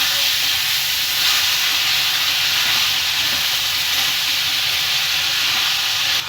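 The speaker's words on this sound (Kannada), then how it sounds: "ಇದಕ್ಕೆ ಹಾಕೊಂಡು ಕ್ಲೀನಾಗಿ ರೋಸ್ಟ್ ಫ್ರೈ ಮಾಡ್ಕೊಳ್ಳೋಣ ಇದನ್ನು" Tomatoes and turmeric frying in oil for an egg side dish, giving a steady, close, continuous hiss and sizzle that holds evenly throughout with no voices.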